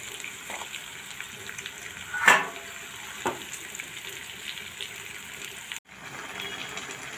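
Cut okra (bhindi) cooking in oil in a pan over a low gas flame, a soft steady sizzle with a few brief stirring clatters and a short break near the end.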